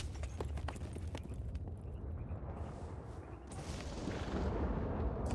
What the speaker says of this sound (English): I forgot how to make the horse veer like that.